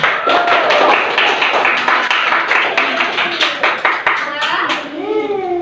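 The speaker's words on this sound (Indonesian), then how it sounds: "coba tepuk tangan untuk Hakim." Third-grade primary school pupils clap together in a classroom, a loud, dense patter of many hands that thins out toward the end as children's voices come through.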